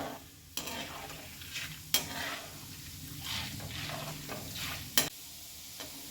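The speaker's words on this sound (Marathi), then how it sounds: "आता आपण डाळो घालून घेऊया हे आपल्याला एक मिनिटच तळायचे आहे" Dal sizzles while frying over low heat in a pan for Diwali chivda, with a soft steady crackle broken by a few sharp clinks of a stirring spoon against the metal.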